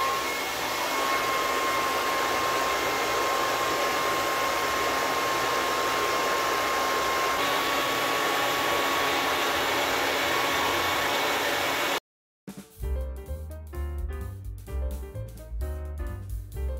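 A steady, loud broadband roar of a hot air blower heating a TV main circuit board runs for about twelve seconds with a faint whine, then cuts out abruptly.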